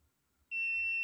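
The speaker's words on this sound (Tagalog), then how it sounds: "Yung ganito, buzzer siya." A continuity tester buzzer sounds while probing an LED TV power button: after brief quiet, a single steady, close, piercing tone starts abruptly and holds to the end.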